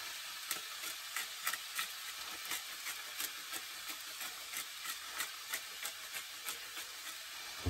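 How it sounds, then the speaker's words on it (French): Mushrooms browning in a pan after seasoning with salt and pepper, a steady close sizzle and hiss with soft repeated stirring clicks throughout, no talking. "on laisse dorer un petit peu les champignons"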